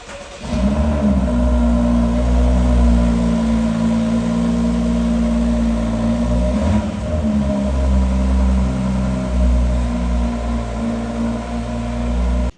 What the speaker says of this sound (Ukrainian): вихлоп такий трошки злий, і звучить це все дуже класно, але не сильно і гучно